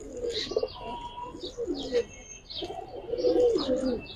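Giribaz pigeons coo in soft repeated throaty phrases close by, with a few higher chirps and faint background voices between calls.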